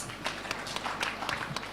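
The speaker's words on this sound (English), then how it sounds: "Another round of applause." Audience applause at an East African conference on disability inclusive higher education, a steady wash of clapping from a hall crowd lasting the whole moment with scattered louder claps, no voices on top.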